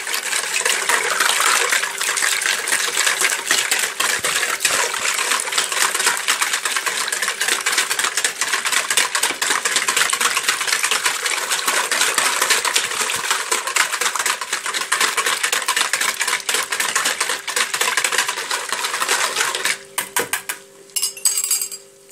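Sugar and whole eggs whisked together in a bowl for a brioche-dough honeycomb bread: a steady, continuous scraping and clinking of utensil against the bowl, fairly loud and unbroken, easing off with a few separate taps at the end.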